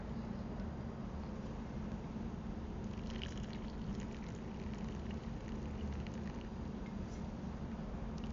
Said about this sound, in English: one last step that I like to do during a cupping is refresh my rinse water